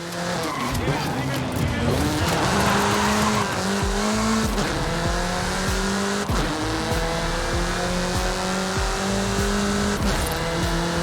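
Race car in Forza Horizon 5 speeding along with a steady engine roar, shifting revs and squealing tires, loud and continuous throughout.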